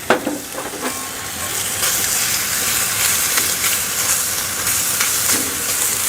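Bacon sizzling loudly on a Blackstone flat top griddle, a dense, constant frying hiss that swells after a brief clatter at the start and holds steady and close throughout.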